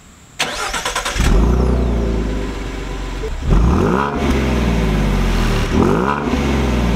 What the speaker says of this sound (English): just revving this thing up